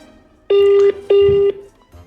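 Two short electronic tones repeat with a brief pause between them, a clean steady beep pattern like a phone line ringing.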